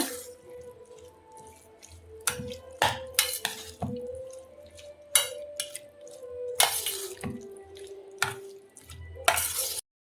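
Spoon stirring amla pickle in a pot after peanut oil is poured in, a run of scraping, squelching strokes and sharp clinks against the vessel, close and intermittent with no voices.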